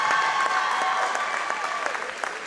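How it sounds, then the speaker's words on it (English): A big audience applauds both teams at a girls' volleyball championship final in a gym, with dense, steady clapping that carries on through the clip and a faint voice over the top. "Let's give both teams one last round of applause"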